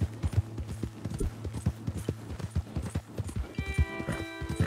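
Hooves of a horse in Red Dead Redemption 2 beat out a fast, rhythmic galloping clip-clop, loud and close, with a brief whinny-like tonal burst near the end.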